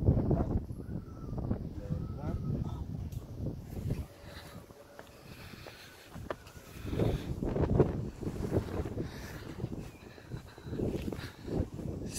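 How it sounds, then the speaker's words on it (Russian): Strong wind at a medieval castle, Herzberg fortress, roars across the microphone in heavy gusts that ease briefly midway, with people talking faintly underneath. "Сильный ветер тут."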